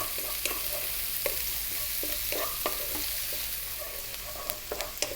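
Onion frying in a pan for a vegan spinach chickpea curry, a continuous close sizzle broken by repeated scraping clicks as it is stirred, with no talk.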